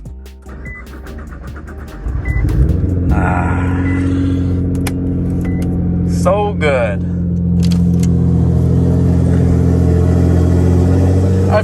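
A car engine cranks and catches after about two seconds, then revs and settles into a loud, steady idle close by, with a short exclamation spoken over it.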